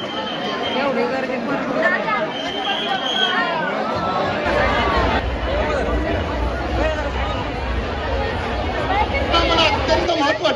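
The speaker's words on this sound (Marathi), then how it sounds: "एवढी गर्दी" A dense crowd at a Pune Ganpati festival pandal fills the air with steady, continuous chatter and babble from many voices, a loud, close hubbub with no single voice standing out.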